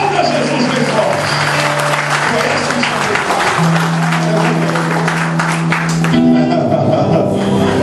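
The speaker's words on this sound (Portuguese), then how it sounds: "Aplauda Jesus bem forte." Church congregation applauding loudly and steadily throughout, a dense wash of clapping with sustained organ or keyboard tones underneath and some voices mixed in.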